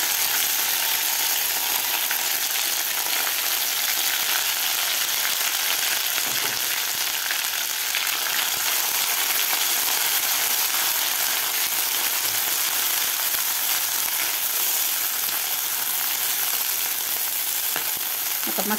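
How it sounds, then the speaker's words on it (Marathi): Ground masala sizzles steadily in hot oil in a kadhai with curry leaves while being sautéed for Pandharpur-style bazaar amti, a loud, continuous broadband frying hiss with faint stirring and no voices. "आता मसाला सुद्धा आपल्याला 2 ते 3 मिनिट व्यवस्थित परतून घ्यायचा आहे"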